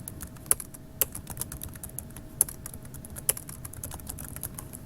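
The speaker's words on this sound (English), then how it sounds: "So you're going to type your answer here." Someone types on a computer keyboard in a quiet room, soft irregular key taps with a few sharper clacks standing out, close and alone.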